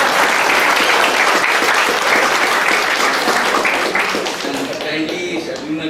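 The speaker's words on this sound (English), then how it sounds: "Yeah, you can clap." A room full of audience members clapping at a meeting with top-ranked students, loud and dense applause that carries on steadily before tapering toward the end, with some voices underneath.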